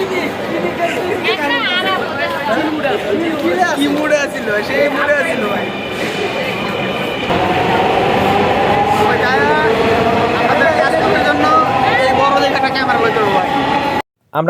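A metro rail train rumbles steadily through a busy station while a crowd chatters loudly over it, voices close and continuous for the whole stretch.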